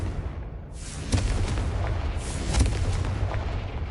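Confringo fire-blast spell explosions in the Hogwarts Legacy video game on PS5: a series of loud booming blasts, with two stronger bursts standing out over a continuous rumbling backdrop of game sound.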